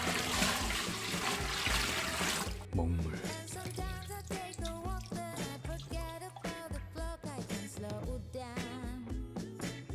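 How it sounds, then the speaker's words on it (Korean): Water drawn through a shower filter gushes from the shower head in a loud, dense hiss for about two and a half seconds, then cuts off abruptly as music takes over. "타고 와서 필터를 거쳐서 이렇게 샤워기 쪽으로 해서 나올 겁니다"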